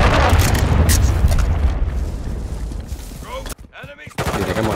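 Rapid bursts of automatic gunfire and booming impacts in the Call of Duty Modern Warfare II video game, loud and dense for most of the stretch, dropping briefly near the end before the firing resumes.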